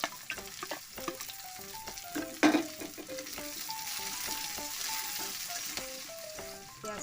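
Chopped onion frying in a pan with ginger and chilli, a steady close sizzle with stirring scrapes and one sharp clatter, while faint music plays underneath.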